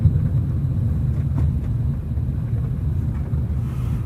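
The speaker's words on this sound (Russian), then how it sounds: "Вот он, этот звук. Внутри салона кажется, как будто дребуляется что-то, такой громыхающий звук." Inside a Hyundai Solaris with a worn rear beam bushing, a continuous low rattling rumble fills the cabin while the car is moving, loud and steady throughout with faint knocks scattered in it.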